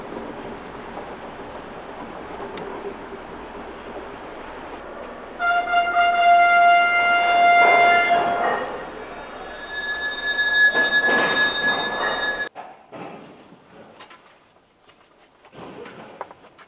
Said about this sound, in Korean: 열차가 거대한 페리 속으로 삼켜지는 모습을 직접 목격하게 되겠죠